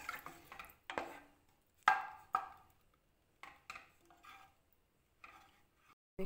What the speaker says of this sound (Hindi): मैं वो ऑनियन पेस्ट डाल रही हूँ और इसको अच्छी तरीके से मिक्स कर लेंगे